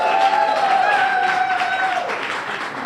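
A room full of people applauds a cafe team at the grand opening of a café and lounge, with steady dense clapping and cheering filling the space, a few raised voices riding on top.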